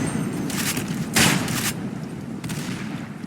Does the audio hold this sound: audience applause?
no